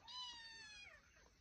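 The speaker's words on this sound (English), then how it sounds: "My cat is here making noise." A single drawn-out cat meow on a farm, faint and somewhat distant, its pitch sliding downward as it fades.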